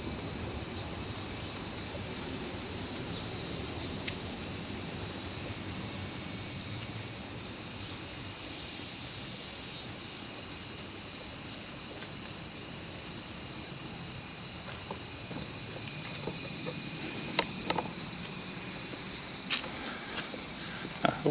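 Summer cicadas drone in a constant high buzzing chorus around a Shinto shrine, loud and unbroken throughout, with faint rustles and a few small clicks near the end.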